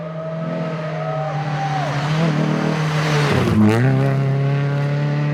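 A rally car at speed on the Rally of the Tall Pines stage in the 2015 Canadian Rally Championship, engine note loud and close, revving up and changing pitch with gear shifts and a brief tyre squeal, no talk.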